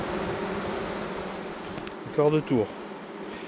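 Honeybees in a queenless hive colony hum loudly and continuously up close, a steady droning buzz throughout; someone speaks briefly partway through.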